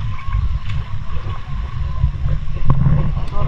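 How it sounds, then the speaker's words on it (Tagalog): Strong sea waves wash at Sandira Beach, a steady rushing churn of water with wind under it, close and fairly loud for a few seconds. "malakas yung alon dito"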